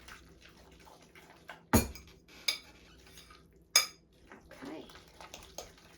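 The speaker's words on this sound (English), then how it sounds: "Mix up our 3 eggs." Three eggs mixed with tuna in a bowl give a few sharp, separate clinks of a utensil striking the bowl over a quiet kitchen background, and one short word is spoken.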